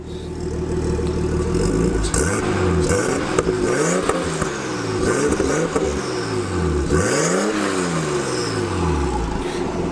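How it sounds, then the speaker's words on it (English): An RB25 engine swapped into an R32 Nissan Skyline revs repeatedly, each blip rising and falling in pitch in a steady rhythm, loud and close with no talking. "once you rev it up, it sounds really nice"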